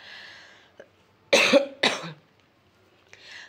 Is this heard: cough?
yes